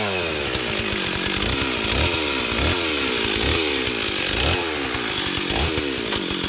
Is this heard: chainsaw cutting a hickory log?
yes